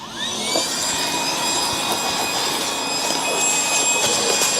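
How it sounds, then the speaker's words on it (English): A cordless vacuum cleaner on a nearly dead battery runs with a thin, steady whine and airy motor hiss, droning evenly and close without a break. "So this vacuum is almost dead and the charger for it's not here"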